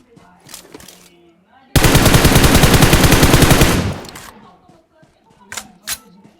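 A sustained burst of rapid automatic gunfire from a PUBG battle, loud and continuous for about two seconds, framed by quieter in-game sounds and players talking before and after.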